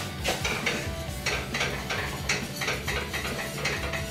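Spoon or whisk scraping and clinking in a pan while coffee cream with liquid chicory is stirred over low heat, a steady run of short metallic scrapes close up with no talking.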